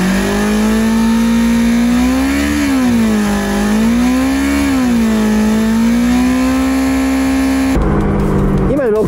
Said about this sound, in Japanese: アクセルひねってね7000回転超えたところからバーンとね一つね音が変わるんですよ。